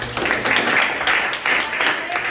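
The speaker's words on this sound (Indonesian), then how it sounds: "Tira dan Caca boleh tepuk tangan semuanya." Students in a chemistry classroom clap together for a presenting team, producing a steady, fairly loud patter of many hands with voices mixed in.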